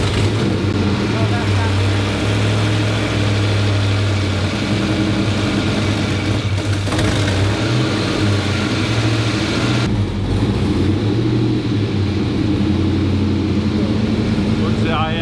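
A 1957 car's engine idles with a steady low rumble, its idle speed wavering up and down through the clip, while people talk nearby.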